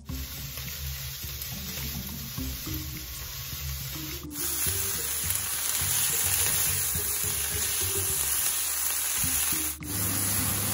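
Pork and noodles sizzling and stir-fried in a hot wok for Singapore fried noodles, a steady loud hiss with scraping stirs, rising in intensity midway, with no talking.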